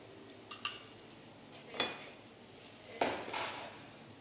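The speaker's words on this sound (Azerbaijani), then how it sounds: "İndi mən sənin üçün bir dənə kəpkür götürüm ki, bu yumurta rahat süzülsün pomidor yumurtaya." A metal skimmer is picked up among pans and cutlery in a restaurant kitchen making tomato eggs: a few sharp metallic clinks and clatters, some in quick pairs, spaced apart over a quiet background.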